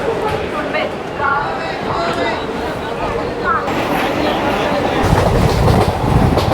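Sealdah to Ranaghat local train running in Kolkata, a steady loud rumble of wheels and carriage noise close by throughout, with a voice talking over it.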